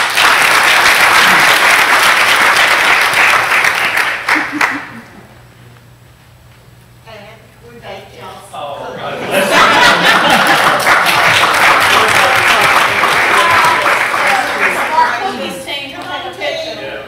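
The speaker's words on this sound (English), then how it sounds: "So we'd like to give them another round of applause." Audience applause fills a school board meeting, a loud burst of clapping that fades to a lull around the middle, then swells again into a second sustained round with some murmuring and chatter beneath it.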